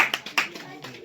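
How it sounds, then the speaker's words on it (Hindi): A few sharp hand claps from a classroom audience at a new study batch launch, loud and close with a quick irregular rhythm over about a second, with a voice faintly mixed in. "चलिए जोरदार ताली के साथ"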